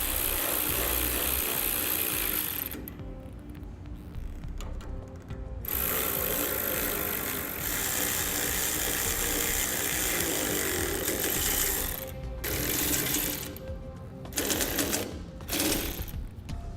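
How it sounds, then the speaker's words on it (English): Ratchet and 17mm socket tightening the axle nuts on a utility A-frame trailer, giving steady mechanical clicking and whirring that runs nearly throughout, briefly dropping and returning in several short pauses. "For these, I'm just using a 17mm socket"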